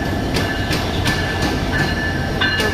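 A passenger train from Kurigram passes close by with a loud, continuous rumble and rhythmic clickety-clack of wheels over rail joints, with faint squealing from the wheels.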